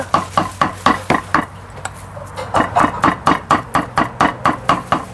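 Sharp knife chops striking a cutting board in a steady rapid rhythm while mincing buffalo meat for larb, a brief pause, then another run of even, close thuds.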